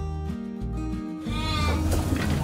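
Goats bleat loudly and close by at a goat farm, with long, wavering overlapping cries that run on without a break.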